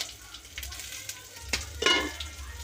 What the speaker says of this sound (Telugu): తర్వాత కొంచెం ఫ్రై చేస్తున్నాను అన్నమాట